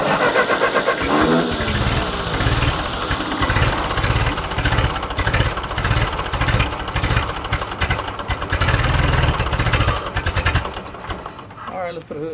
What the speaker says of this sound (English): we're gonna go ahead and try to crank this up